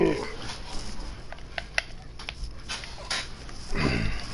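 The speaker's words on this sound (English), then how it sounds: "Dog, where the fuck are you taking me?" Dog in the Red Dead Redemption video game whimpering with a few short yips and clicks, moderately close, over game ambience with some background noise.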